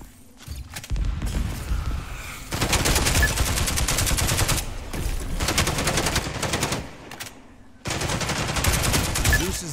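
Video game gunfire in rapid automatic bursts, loud and close, coming in long stretches separated by short pauses, with a voice speaking between them.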